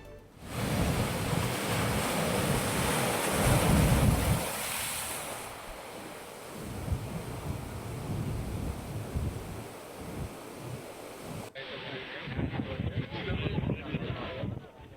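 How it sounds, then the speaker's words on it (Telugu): During Cyclone Fengal at Kakinada, loud surf roars and gusty wind buffets the microphone, rising and falling in bursts, while a voice talks over the storm. "కాకినాడ జిల్లా వ్యాప్తంగా ఈదురుగాలుల ప్రభావం అధికంగా ఉంది"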